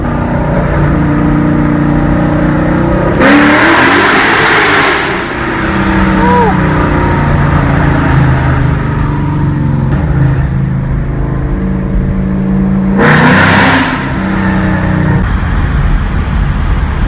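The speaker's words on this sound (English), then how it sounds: "I'm gonna give you guys this first gear pull through this tunnel and show you guys how insane it sounds." A loud Mustang 5.0 V8 pulls hard in first gear through a tunnel, with a deep roaring engine that rises twice to bursts of strong acceleration, heard from inside the car with a voice talking at times.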